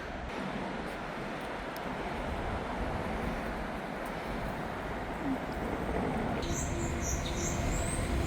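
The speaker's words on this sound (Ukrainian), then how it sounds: "Пташки співають" Small birds chirping on an Odesa street on a sunny morning, faint high chirps appearing late in the clip above a constant roar of city traffic noise.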